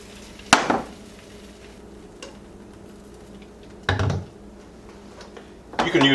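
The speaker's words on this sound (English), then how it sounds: "And I'm going to use half a cup per pan. I'm going to swirl that around." Crepe batter poured into a hot pan and swirled around, giving three separate bursts of sizzling and pan clatter over a quiet kitchen background.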